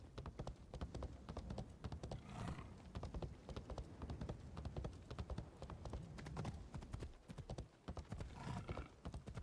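Horse galloping in Assassin's Creed Shadows, a steady rapid clip-clop of hooves running continuously throughout, close and loud, with no talking.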